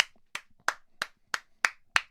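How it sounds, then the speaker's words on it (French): Seven crisp hand claps land close and loud at an even, unhurried pace, each a sharp isolated smack with brief quiet between, during a group chat about a PSG–Brest football match. "On peut l'applaudir, les gars."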